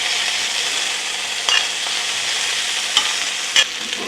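Pasta is stirred in an oiled pan, a continuous soft sizzle of frying with a few brief scraping clicks from the utensil, close and alone without voices.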